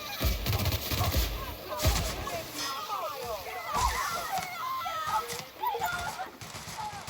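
Gunfire in The Outer Worlds: Spacer's Choice Edition, sharp shots in a few separate bursts with one early cluster, set among game noise and occasional speech.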